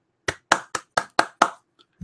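A single person claps six sharp, close claps in an even rhythm, each a crisp smack with quick decay, followed by a brief near-silence.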